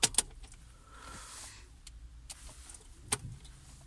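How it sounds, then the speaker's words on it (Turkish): A key turns in the ignition of an Opel Astra: a quick metallic key jingle at the start, followed by faint electrical whirs and a brief click, all close and quiet. "kontağı açıyoruz"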